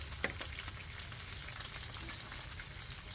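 Walmart sausage links frying in plenty of grease, a dense, steady sizzle and crackle with a few sharper pops near the start, close and continuous throughout.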